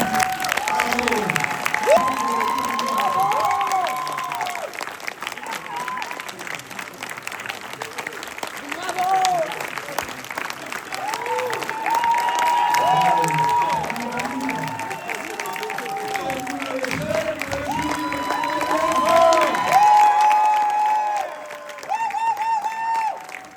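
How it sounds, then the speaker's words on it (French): Applause and cheering from an audience at a closing ceremony with award presentations, a dense steady roar of clapping with shouts and whoops layered through, loud and sustained, with voices mixed in. "Je vous demande un tonnerre d'applaudissements pour Stéphanie"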